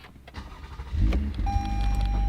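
A Toyota Camry TRD V6 cranks and catches after a few quiet clicks, settling straight into a steady low idle with a faint electronic whine over it.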